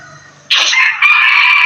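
A rooster crows loudly and close by, one sustained, strained call that rises abruptly out of quieter background murmur and holds to the end.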